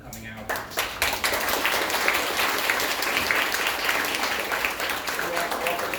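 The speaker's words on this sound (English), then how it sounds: "Everyone give Joe and Aldo another round of applause." An audience at a design talk at BrainStation breaks into sustained applause, a dense wash of many hands clapping that starts abruptly and holds steady, with a speaking voice audible at the start.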